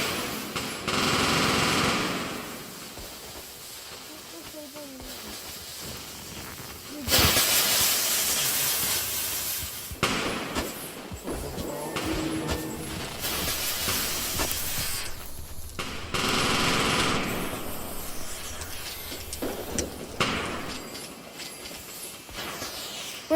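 Fireworks in a video game firework show: repeated loud, broadband bursts of hissing, crackling and whooshing, with several big eruptions and rapid popping in between, and no voices.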